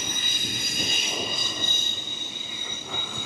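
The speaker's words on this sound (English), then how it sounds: "you can still get a pretty good view here of the trains" Trains run past near Roma Street Parklands in Brisbane, with rail cars rumbling at moderate distance and high metallic wheel squeal ringing steadily over the passing rumble, and no one speaking.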